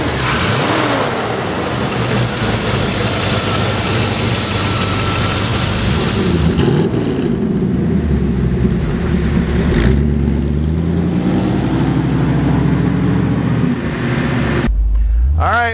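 A 1955 Chevy Bel Air convertible on the move, its engine revving and rising in pitch through shifts under steady road and wind noise, with a voice talking over parts of it.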